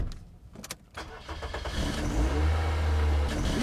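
A car engine cranks and stumbles a few times after failing to start, then catches and revs up into a loud, steady mid-pitched roar, close by with no talking.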